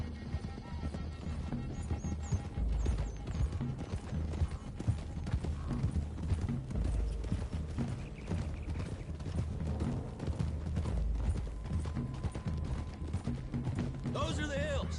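Horse hooves clip-clop along a hilly road in the video game Red Dead Redemption II, a steady rhythmic trotting beat mixed under game music and ambient effects.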